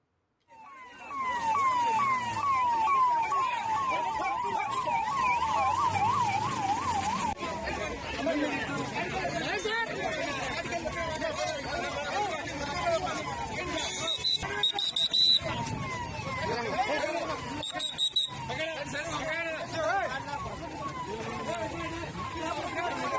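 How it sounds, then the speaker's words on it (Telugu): An ambulance siren wails with a rapid warbling rise and fall on a road in Pulivendula as a crowd clears the way. It is loud at first, then gives way to continuous crowd chatter and voices, with a few sharp bursts later. "అటుగా ఓ అంబులెన్స్ వచ్చింది"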